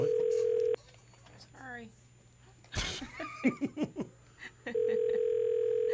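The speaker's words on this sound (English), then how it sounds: "What is up with these long ringtones?" Over a phone line, a steady tone sounds at the start and resumes near the end, with someone briefly speaking and laughing in between.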